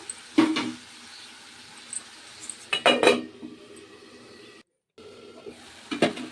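A spoon scraping and clinking in a pan as tomatoes and turmeric are stirred for coriander chutney, with a few separate bursts of metallic clatter spread between quiet gaps.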